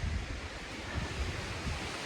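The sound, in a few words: strong wind on a mountain trail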